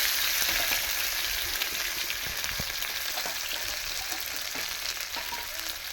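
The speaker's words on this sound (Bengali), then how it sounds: "লাল লাল ভাজা হোক" Chopped ginger frying in oil with whole cumin and fennel seeds in a wok, an even close sizzle with occasional light stirring ticks, no voices.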